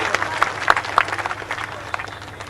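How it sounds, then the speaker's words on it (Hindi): A crowd at a political rally in Rajsamand claps for the dignitaries on stage. The applause is scattered and moderately loud, with some sharp individual claps standing out over a faint background murmur. "जोरदार तालियों के साथ पूरे मंच का आप सत्कार"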